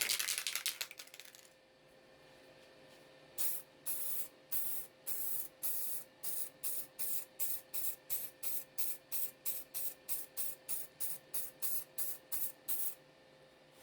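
Lacquer or varnish is sprayed over model decals in a rapid series of short, sharp aerosol bursts, close and evenly spaced, following a brief initial hiss and a quiet pause.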